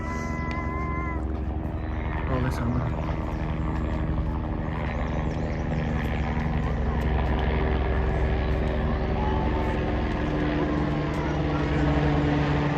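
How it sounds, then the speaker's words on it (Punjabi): A helicopter ferrying pilgrims near Hemkund Sahib drones steadily nearby, its rotor hum continuous and loud throughout, while a person speaks briefly over it. "ਆ ਵੇਖੋ ਹੈਲੀਕਾਪਟਰ ਆ ਰਿਹਾ ਜੀ"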